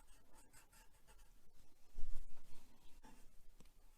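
A pen scribbles doodle lines on paper, a soft, continuous scratching that swirls and changes direction, close and quiet with no talking.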